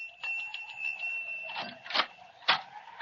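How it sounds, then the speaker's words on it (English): A bell rung at a front door, a bright sustained ring with repeated strikes, followed by several louder clanging hits near the end, fairly close and clear with no talking. "There's a bell, Jimmy."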